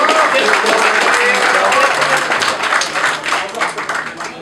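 Audience at an award ceremony breaking into sustained clapping and applause, a dense crowd wash that fades slightly toward the end, with a voice speaking faintly under it.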